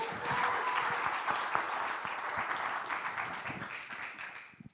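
An audience at a high school presentation event breaks into a full round of applause, a dense, even wash of many hands clapping that holds steady and then tapers off near the end.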